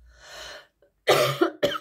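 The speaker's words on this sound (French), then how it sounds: "J'ai dû arrêter le temps de tousser." A single harsh cough, then a short pause followed by two or three more forceful coughs close to the listener.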